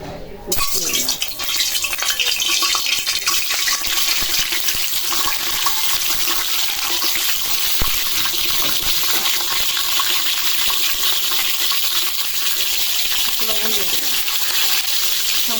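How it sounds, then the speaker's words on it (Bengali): Farm eggs drop into hot oil in a heated wok, setting off a sudden loud sizzle that then holds as a dense, steady hiss close by for the rest of the time. "কড়াইটা গরম হয়ে গেছে তেল দিয়ে দিলাম প্রথমে আমি ডিমগুলি হালকা ভাজা দিই"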